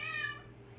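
A single short cat meow, fairly faint and close, indoors with no talk over it.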